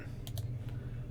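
A few quick, light computer mouse clicks, close and fairly quiet, over a low steady hum with no talking.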